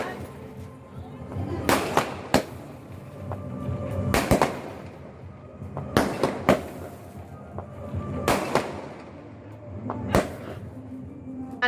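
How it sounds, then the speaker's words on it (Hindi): Diwali firecrackers burst on a rooftop at night, five or six sharp loud bangs spaced a couple of seconds apart over a steady murmur of background noise. "वहाँ पे भी हम लोग पटाखे फोड़े"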